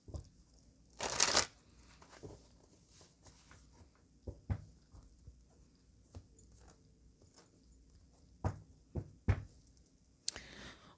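A deck of tarot cards shuffled close up in a quiet room, with a brief riffle burst followed by soft taps, knocks and card handling scattered throughout.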